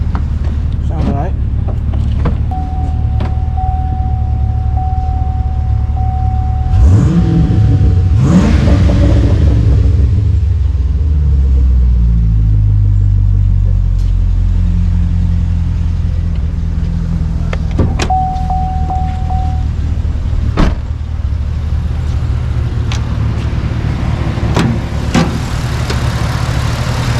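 A 2014 Chevrolet Caprice PPV police car with a straight-pipe exhaust rumbles loud and close, its engine revving in a strong swell early on, then settling into a deep idle with a few sharp clicks and knocks.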